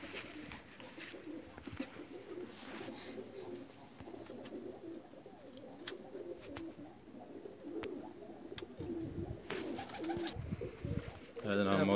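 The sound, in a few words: pigeon cooing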